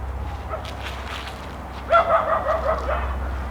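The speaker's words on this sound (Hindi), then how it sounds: "बहुत ज़्यादा कुत्तों की आवाज़ें हैं।" Several dogs barking and yipping in the distance at night, a ragged cluster of yelps rising over a low steady hum.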